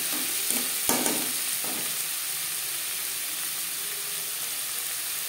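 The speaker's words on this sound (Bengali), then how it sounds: "আর দিয়ে দেব রসুন।" Crushed garlic is added to mutton liver curry frying in a pan, giving a steady close sizzle with a few stirring scrapes near the start.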